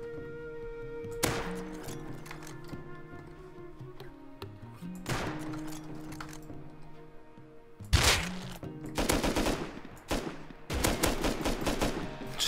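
Pipe shotgun blasts in the video game Rust: a few loud, sharp booms spaced seconds apart, with rapid bursts of gunfire clustered near the end over a low background hum.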